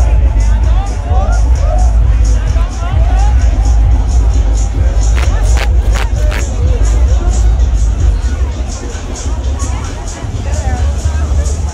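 A crowd files into the EDC Las Vegas music festival, a steady babble of many voices with footsteps and scattered shouts, close and continuous, with a few sharp clinks in the middle.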